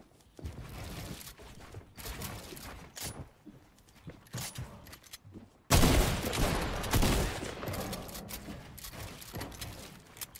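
Gunfire from a sniper rifle and other weapons in a Fortnite match, with scattered shots and bursts that peak in a loud cluster midway before staying busy and dense.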